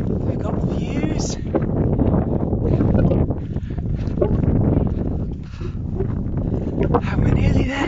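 Loud, continuous wind buffeting the microphone on a walk along the Mawddach Way in Wales, rumbling and gusting throughout; a voice may be partly buried beneath the roar.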